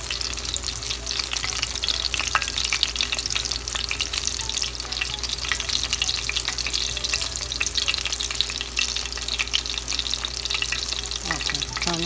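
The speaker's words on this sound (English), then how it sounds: "So this doesn't take long to fry" Breaded steak fries in a pan with a steady, dense sizzle and crackle of hot oil that runs unbroken and close throughout.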